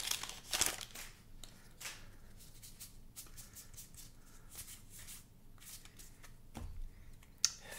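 A Time Spiral Remastered card pack is torn open, its foil wrapper crinkling and crackling in quiet, irregular bursts with a sharper rip near the start and a snap at the end.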